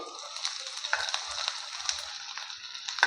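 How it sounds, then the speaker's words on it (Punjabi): Grated bitter gourd sizzling quietly in hot oil in a pan, a soft, steady frying hiss with faint stirring scrapes throughout. "ਹੁਣ ਆਪਣੇ ਕੱਦੂਕਸ਼ ਕੀਤੇ ਹੋਏ ਕਰੇਲੇ ਪਾ ਦਾਂਗੇ"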